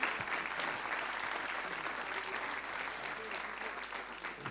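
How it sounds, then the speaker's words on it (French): Applause from a conference audience at an environmental risk forum, thanking the speakers; steady, even clapping heard from a distance at moderate level, with faint murmurs underneath. "je crois qu'on peut applaudir nos intervenants"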